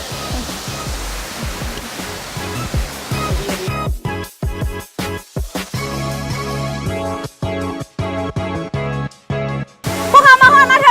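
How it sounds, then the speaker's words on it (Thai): Tad Huay Khai waterfall roars with a steady broadband rush of water, close and loud. Rhythmic music soon comes in and takes over. "มาถึงกันแล้วกับน้ำตกตาดห้วยไข่"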